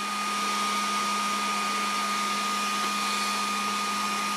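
A Makita 18V cordless heat gun runs steadily while heating a pipe to bend it, a constant close airy whoosh with a faint fan hum and no breaks.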